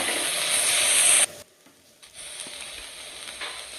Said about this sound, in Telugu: ఇంకొంచెం ఆయిల్ వేసుకొని ఫ్రై చేసుకున్నాము